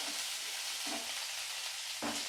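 Ginger, green chilli and four or five garlic cloves frying in oil with a soft, steady sizzle, broken by a few short stirring scrapes, heard quietly and close with no speech.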